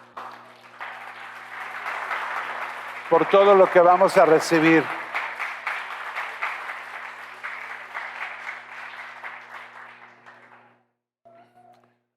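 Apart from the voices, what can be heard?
congregation applause in church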